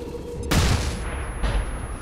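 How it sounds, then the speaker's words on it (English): A flashbang grenade detonates in XCOM 2 with a sharp, loud burst followed by a booming, crackling tail and a second rumbling hit. "Let's try and flashbang some of them."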